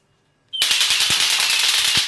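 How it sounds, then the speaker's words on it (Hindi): After a moment of quiet, a string of Diwali firecrackers goes off in a loud, rapid, continuous crackling volley of sharp bangs, close by and unbroken to the end. "ले तू पटाखे फोड़"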